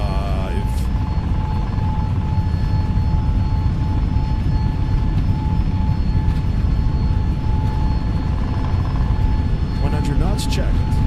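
Steady roar of jet engines at takeoff thrust on an Airbus A321neo in MSFS 2024, a broad constant rumble throughout, with cockpit talk and a steady tone over it.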